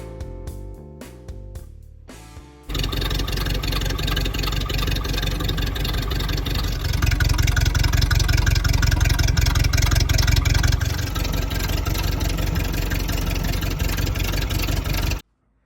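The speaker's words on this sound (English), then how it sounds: "mess with this exhaust pipe, which just comes out and then ends right there, which is crazy loud inside the cab" A loud, raw hot rod engine in a 1929 Ford Model A Tudor sedan rumbles and revs through a short open side exhaust, briefly rising in intensity before settling back, with no talking.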